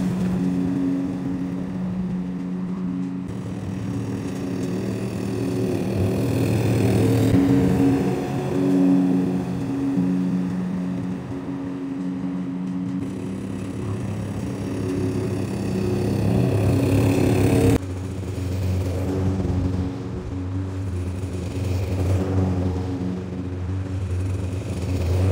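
Petrol lawn mower cutting a garden lawn, a steady continuous engine drone running throughout with a slight shift in load partway, close and loud, no talking.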